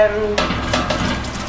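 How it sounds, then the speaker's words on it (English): Sugar being stirred into hot water in a pot to dissolve it for a fruit syrup, heard as a steady scraping, sloshing stir with a faint sizzle, close and fairly loud with no talk. "add the sugar in, get it dissolved"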